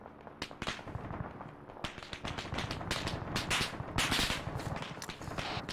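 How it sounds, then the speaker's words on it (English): Machine gun fire in the military video game Arma 3, a dense crackle of rapid shots and scattered bangs that carries on throughout, sharp and moderately distant, with no talking. "a machine gun deep in the village"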